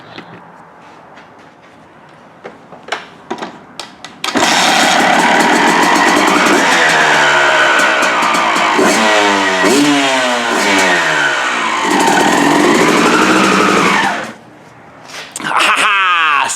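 A Yamaha YZ dirt bike is kicked a few times, then its engine catches and runs loud and close, revving up and down repeatedly before dropping briefly and picking up again.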